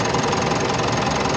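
A vehicle engine idles steadily after a fuel filter replacement, a dense, even mechanical chug with a slight knocking texture, loud and close throughout with no talk.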